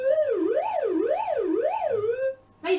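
An analog synthesizer oscillator with automatic modulation sweeps its pitch up and down in a smooth, regular siren-like wobble, about four cycles, loud and alone, before cutting off and a short new tone entering.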